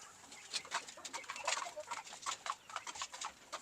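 Chickens on a Philippine poultry farm, a series of close, short clucks and calls repeating irregularly over a quiet background.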